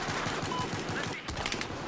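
Rapid gunfire from a Battlefield 4 match, a dense run of repeated shots at fairly steady loudness throughout, with no talking over it.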